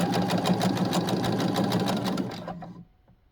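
A sewing machine stitches a seam with a fast, even, close mechanical chatter that runs steadily, then stops abruptly near the end.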